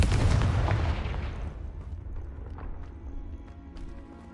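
A Confringo fire spell in the Hogwarts Legacy video game erupts as a loud, booming blast that quickly decays into a rumbling crackle and faint scattered pops.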